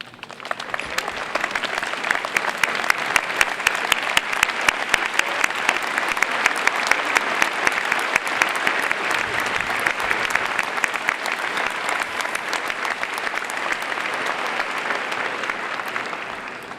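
Sustained applause from a large audience standing in an arena at a high school graduation ceremony, a thick, steady roar of clapping with crisp individual claps on top, lasting without pause.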